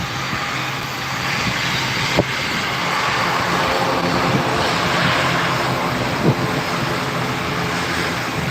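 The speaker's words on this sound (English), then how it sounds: "Just watching some of the planes take off" Airplanes taking off at Gran Canaria Airport make a steady, broad roar of jet engines that fills the whole stretch. A couple of brief knocks stand out against the continuous noise, with no talking.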